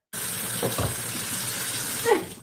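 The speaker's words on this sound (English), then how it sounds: "I'm letting the water run over the plate." Tap water runs steadily over a plate in a kitchen sink, a close, even splashing hiss with a brief clink of the plate near the end, and no speech.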